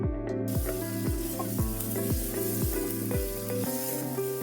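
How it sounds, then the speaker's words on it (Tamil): Chopped tomatoes sauté in a hot pan for paneer butter masala, a steady close sizzle with a rhythmic series of scraping stirs against the pan, no voices. "தக்காளி நல்லா குழைய வதக்கிக்கலாம்."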